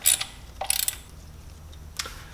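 A ratchet loosening 10 mm bolts on the belt guard of an Audi/VW 1.8L turbo engine, with a few short bursts of quick metallic clicking, close and fairly loud, separated by pauses.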